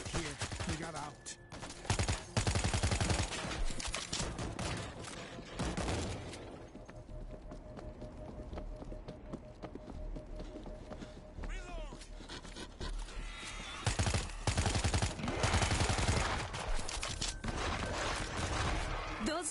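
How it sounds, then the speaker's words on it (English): Bursts of gunfire and explosions in the zombie shooter World War Z, loud and chaotic at the start and again near the end, with a quieter stretch between and game voices talking over it. "Shots came from the highway."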